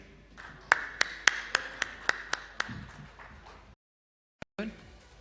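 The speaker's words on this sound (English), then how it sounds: "A round of applause" Scattered, sparse hand claps ring out one by one at a corporate industry presentation as two presenters are called to the stage, a thin, slow rhythm of distinct claps, then silence and a few faint sounds.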